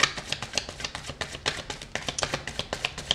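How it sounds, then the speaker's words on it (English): Cards are shuffled in quick, crisp riffles, a rapid series of close papery flicks with a steady rhythm and no talking. "I'm going to shuffle all your cards"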